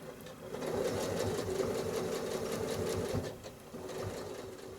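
Sewing machine running steadily during freehand free-motion quilting, stitching spirals to fill a blue square of a four-patch quilt block; a continuous close, fairly loud mechanical whir that dips briefly before resuming.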